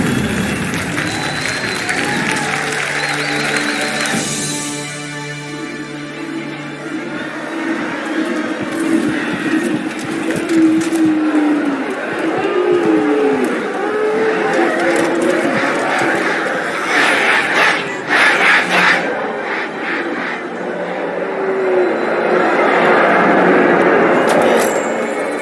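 A large crowd cheers and applauds in a Halo 2 Anniversary cutscene, a dense and steady roar that swells and fades while characters speak over it.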